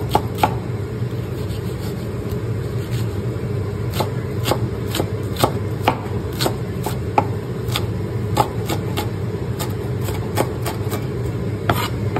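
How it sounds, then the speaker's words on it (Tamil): Knife chopping onion on a board for prawn fry, a steady run of sharp, close taps at an uneven pace over a constant low background hum. "இது ப்ரான் ஃப்ரைக்காக நறுக்கிட்டுருக்க வெங்காயம்"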